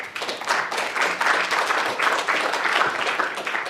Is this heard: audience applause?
yes